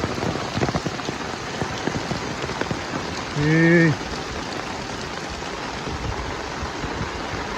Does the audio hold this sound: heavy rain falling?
yes